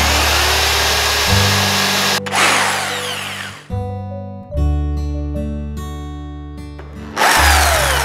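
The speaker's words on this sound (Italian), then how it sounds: "farò dei fori con questa punta da 12 in modo che i tasselli siano perfettamente passanti nel legno" An electric drill fitted with a 12 mm bit bores holes through timber for a DIY canopy, its motor whining loudly in several bursts with brief pauses between them, close up.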